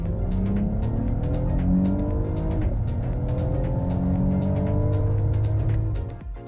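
A 2020 Mercedes GLE53 AMG accelerates hard from 30 to 70 mph, its engine note climbing steadily with a brief dip at a gear change before rising again.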